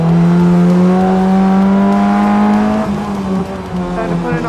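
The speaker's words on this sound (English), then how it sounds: "Now that big spike in RPMs was a misshift into 4th gear" A Formula 1 race car engine with a worn manual non-synchro gearbox holds a high, steady whine, then a sudden RPM spike and drop from a misshift into fourth gear, loud and close.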